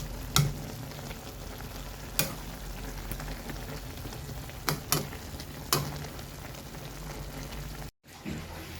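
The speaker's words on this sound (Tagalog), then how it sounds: "so nilagay na natin ang pork." Pork for mechado sizzling steadily in a hot pan, with a continuous crackling fry broken by a few sharp clinks and stirring knocks, fairly close and with no talking.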